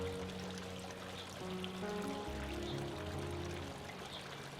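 Cooled brewed green tea poured into a blender, a steady liquid stream splashing and trickling for a few seconds under faint background noise.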